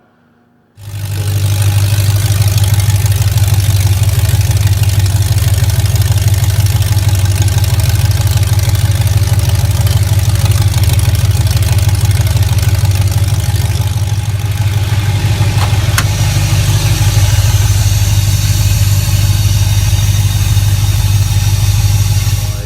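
An LS V8 engine pulled from a 2005 Chevy 2500 HD, swapped into a 1980 Chevy K10 squarebody, starts and then runs at a loud, steady low idle up close.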